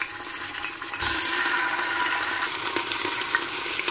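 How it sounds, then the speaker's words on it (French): Pieces of meat drop into heated oil for a tajine, and a sudden loud sizzle bursts up and keeps crackling steadily in the pan. "Alors j'ai commencé par faire chauffer mon huile. Et je vais mettre mes morceaux de viande."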